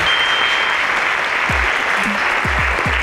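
A studio audience at a school quiz competition gives loud, sustained applause, a dense roar of many hands that holds steady throughout, with a few low thumps near the end.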